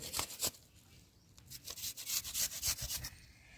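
Cut apple pieces scraped across a grater, a run of quiet rasping strokes in an uneven rhythm with a short pause, close and alone.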